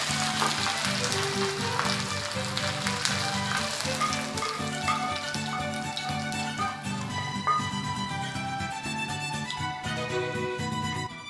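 Curry-leaf tempering sizzles and crackles steadily as it goes into a Kerala prawn curry made with kudampuli, a continuous loud frying hiss with scattered pops throughout.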